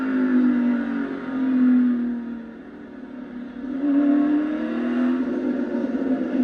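NASCAR stock cars roar past on an oval track, their loud engine drone swelling and fading in two broad waves as the pack goes by, with no talking over it.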